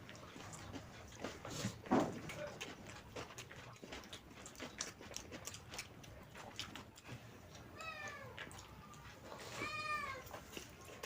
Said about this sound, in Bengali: আমাদের বিড়ালটা গেট খুলতে পারছে না, চেল্লাচ্ছে